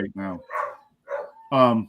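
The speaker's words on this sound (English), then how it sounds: "I'm sorry about the dogs." Dogs nearby let out a few short barks, mixed in with a voice speaking indoors.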